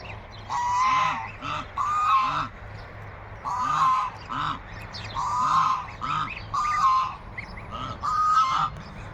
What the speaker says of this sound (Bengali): হাঁসগুলো বাচ্চাগুলো অনেক বড় গেছে